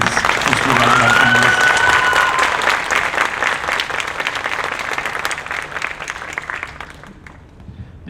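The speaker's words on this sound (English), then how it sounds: "A quick round of applause for all of these." Applause for award nominees at the 2023 Golden Fleece awards: a loud, full burst of crowd clapping with a faint whistle early on, holding steady before thinning and fading away toward the end.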